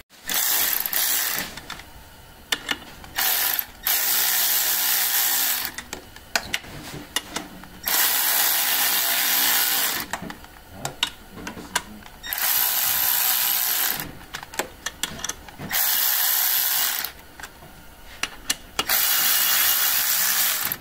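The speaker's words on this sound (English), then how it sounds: "Everything torqued down nice and even." A ratchet tightens clutch bolts on a Polaris Scrambler XP 1000 S, several bursts of rapid clicking separated by pauses, close and loud, with brief speech in between.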